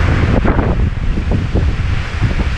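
Strong wind gusts buffet the microphone at an exposed hunting camp, producing a loud, continuous rushing roar with no voices heard.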